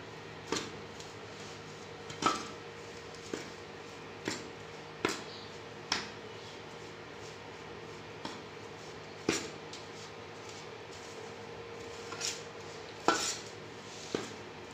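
A spoon stirs a mixture in a pan while making puffed lotus seed and roasted chickpea pinni, faint regular clinks and taps against the metal about once a second over a quiet background.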